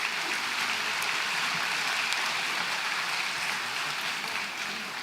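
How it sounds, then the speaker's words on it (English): A graduation ceremony crowd gives the student MCs a sustained round of applause, a dense, even wash of clapping that holds steady throughout and tapers slightly at the end. "Round of applause."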